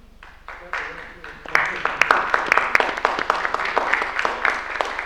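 Audience at an Indigenous voices event bursts into applause, a dense, close wash of many hands clapping that builds quickly and holds steady to the end.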